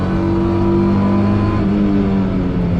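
A Mazda MX-5 Miata on the Nürburgring, trailing a Porsche GT3 RS, carries a loud, sustained engine drone at high revs that shifts pitch slightly as it pulls along, heard up close with no talking.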